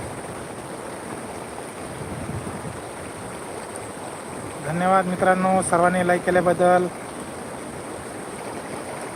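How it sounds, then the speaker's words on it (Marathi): A swollen river surges with heavy flood discharge after rains, a broad steady roar throughout while someone talks over it for a couple of seconds midway. "बघू शकता मित्रांनो पाण्याचा विसर्ग कसा चालू आहे भरपूर प्रमाणात पाणी चालू आहे"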